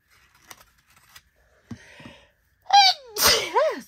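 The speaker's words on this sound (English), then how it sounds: "you guys got to hear me sneezing" A person's sneeze bursts out loudly near the end, preceded by a sharp inhaled gasp and followed by a trailing vocal sound, after quieter crafting taps and rustles.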